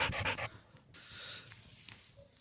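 A dog pants close by in quick rhythmic bursts, then breathes more softly under faint background noise.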